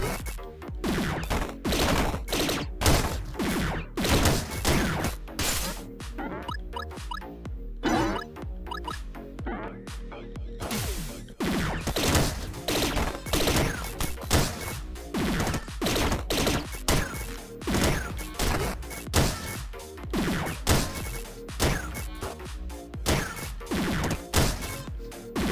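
Rapid gunfire bursts and impact crashes from the video game Downwell, dense and continuous as the character shoots downward and stomps on enemies, loud with no talking.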